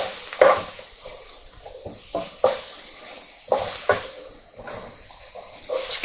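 About 250 grams of sliced mushrooms soften in a pan for beef stroganoff and get stirred: a soft, steady sizzle runs under repeated scraping strokes of a utensil against the pan, close and moderately loud, with no voices.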